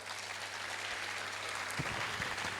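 An audience at a school annual day dance performance applauds, a steady, distant wash of clapping that stays faint and even throughout.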